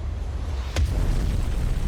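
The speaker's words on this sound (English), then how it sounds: "And then the explosion." A single explosion sound effect in a music video hits as a short burst within a loud, dense musical mix that continues steadily around it.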